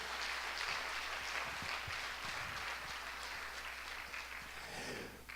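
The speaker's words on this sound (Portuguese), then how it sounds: "Uma salva de palmas para o Senhor." Church congregation applauding, a soft, even wash of clapping that stays fairly distant and steady, ending in a sudden loud bump.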